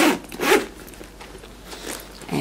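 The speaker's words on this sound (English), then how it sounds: "The zipper is smooth" A zipper with shiny gold hardware on a Chanel Gabrielle bag is pulled open with two smooth, close zips in quick succession, then a softer third draw after a pause, with no talking.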